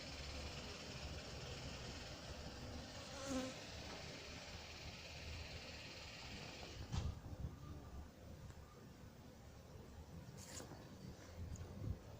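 A hornet buzzes around a tent set near beehives, a steady insect drone that carries on through the whole stretch with a few brief louder passes.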